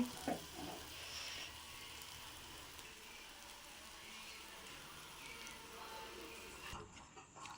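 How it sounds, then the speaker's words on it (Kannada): Leafy greens frying in a pan give a faint, steady sizzling hiss that runs unbroken and fades slightly near the end. "ಸಖತ್ತಾಗಿ ಫ್ರೈ ಆಗ್ತಾಯಿದೆ ಸಕ್ಕತ್ತಾಗಿ ಆಗಿದೆ"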